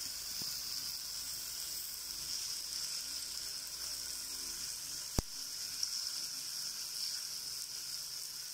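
Pork chop frying in a pan gives off a soft, steady sizzle and hiss that runs unbroken throughout, fairly quiet, with one sharp click partway through.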